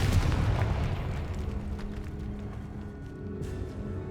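A Confringo fire spell bursts in Hogwarts Legacy, a low rumbling blast with a boom that fades into a dull reverberating tail, heard without speech.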